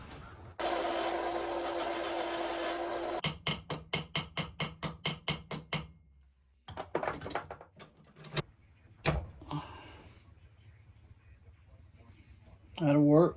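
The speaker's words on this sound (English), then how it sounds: "I'm just going to push it down some and flatten it out with my sander here." An electric sander whirs and grinds against a knife repair part in a few short bursts, followed by quick rhythmic ball peen hammer taps and scattered clanks, close by.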